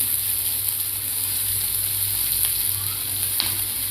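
A steady, close-up frying sizzle as onions and garlic sauté in a pan, soft crackles over an even hiss, with no talking.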